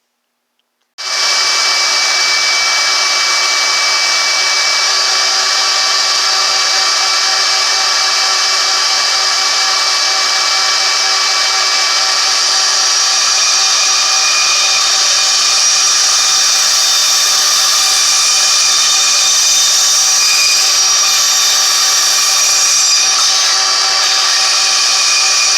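A bandsaw cuts a phone holder piece, a loud, steady, high whine that starts abruptly after a moment of silence and runs unbroken throughout.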